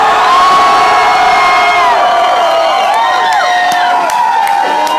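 A loud concert crowd at a live hip-hop show in a club cheers, whoops and shouts continuously, with high-pitched yells rising and falling over a dense wall of voices.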